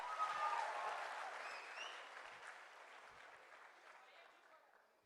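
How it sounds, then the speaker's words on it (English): Applause from the audience at a national conference for CA students, a close, even patter of clapping that starts full and slowly fades over about five seconds. "Big round of applause for her."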